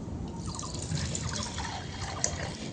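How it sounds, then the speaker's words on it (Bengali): Milk pours into a clay pot for homemade yogurt, a soft, faint, continuous trickle lasting a few seconds with no talk over it. "এখন আমি এই মাটির ভাঁড়ের মধ্যে ঢেলে দিচ্ছি।"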